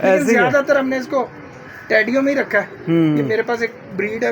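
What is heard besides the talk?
No everyday noises stand out.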